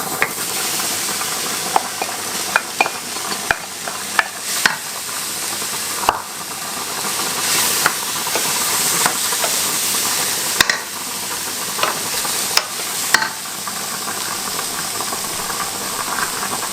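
Vegetables hit a hot pan of Jamaican prawn curry and sizzle loudly, with a steady frying hiss and steam and sharp stirring scrapes and clinks at intervals, close up.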